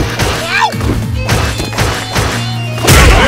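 Punches and kicks land in an Ultra Street Fighter IV bout between Guile and Vega, a rapid run of loud smacking game impacts with a heavier crash near the end, over busy background game music.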